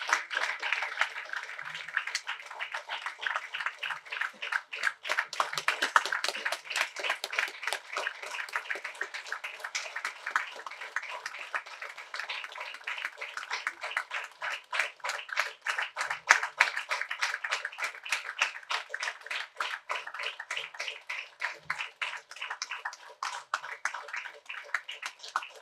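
A crowd at a stage ceremony applauds steadily, dense clapping sustained throughout without a break, fairly close and even in loudness.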